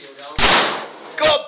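Two loud gunshots at an outdoor firing range in Latvia, a sharp close crack followed by a decaying tail, then a second shot less than a second later, with faint voices around them.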